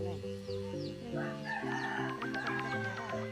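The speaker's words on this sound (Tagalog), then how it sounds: "Ayun, may manok pa. Sige, ilaok ka lang dyan." A rooster crows nearby in a drawn-out call, with clucking fowl and other birds chirping around it.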